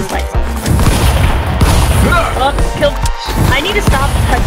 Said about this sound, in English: I need to stop touching that shotgun because I blow myself off.